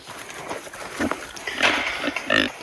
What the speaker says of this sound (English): Pigs want the dinner.